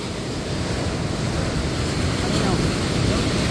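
Big ocean waves roll and crash close by in a steady, loud surf roar, with wind buffeting the microphone throughout.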